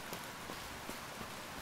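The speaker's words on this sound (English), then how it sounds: "Oh, now it's raining." Steady rain falls in the video game Cattails, a dense, even patter of drops at moderate level with faint soft taps, and no voices.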